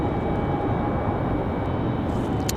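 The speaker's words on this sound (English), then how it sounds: "Sounds like we got an A220 on the move." A JetBlue Airbus A220 taxis at Raleigh-Durham International on a windy day, giving a low, steady rumble of idling engines with a soft whine above, continuous and fairly distant.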